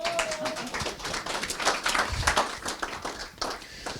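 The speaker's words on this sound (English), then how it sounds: "Give James a wave and a clap" Scattered, light clapping from an audience at a real estate partnering event, faint and somewhat distant, with loose uneven claps running for a few seconds.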